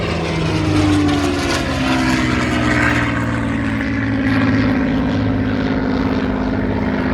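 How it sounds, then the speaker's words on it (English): Supermarine Spitfire Mk IX warbird making its final pass in a flight display at the Central Coast Airshow, a loud, continuous piston-engine roar sweeping past with shifting pitch and a rising then fading rush of air. "This is the last pass from the Spitfire."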